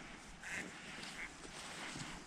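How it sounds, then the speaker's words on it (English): Ducks on a farm creek pond give faint quacks and flap as they take off, a few brief calls over a quiet outdoor background. "Oh, oops. You scared the ducks."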